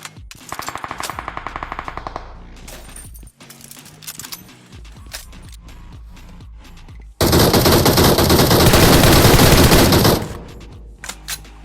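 Bursts of rapid automatic gunfire in BGMI (PUBG Mobile), short rattling volleys followed by a long, loud sustained barrage that cuts off abruptly.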